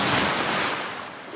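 Lake Superior waves wash onto a rocky beach in a close, loud broadband surge that fades as the water draws back, with wind noise and no talk.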